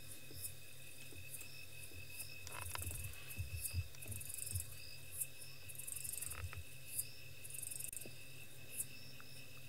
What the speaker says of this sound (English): I like the sound of the crickets as well.